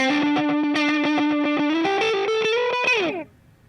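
Electric guitar with heavy distortion plays a rapid run of crunchy repeated notes climbing in pitch, loud and up close, ending in a slide before cutting to near silence.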